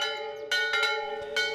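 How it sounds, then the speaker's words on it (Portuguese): Church bells at the Chácara de Santa Cruz ring at 6 in the morning, several resonant clangs struck in quick succession with long ringing overtones. "Pontualmente às 6 da manhã, os sinos da Chácara de Santa Cruz soaram."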